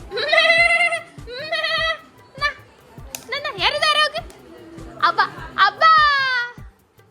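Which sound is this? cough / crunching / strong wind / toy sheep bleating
toy sheep bleating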